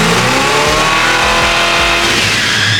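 Nissan S13.5 fitted with an SR20DET engine, loud and close as it revs hard through a dyno pull, the pitch sweeping upward with brief dips at each shift, no talking over it.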